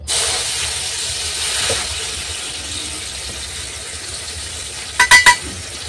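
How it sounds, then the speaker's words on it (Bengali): Tamarind pulp drops into hot oil in a wok, setting off a loud hiss that fades over several seconds, followed by a brief cluster of sharp metallic clicks near the end. "সেই তেলে আমি কাতটা দিয়ে দিলাম, তেঁতুলের কাতটা"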